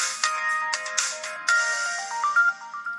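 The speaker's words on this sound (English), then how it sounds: "I just love that startup sound" The startup tone of an LG Lotus Elite phone: a short bright electronic chime of quick rising notes and sparkly bell-like tones, moderately quiet and heard alone for about three seconds.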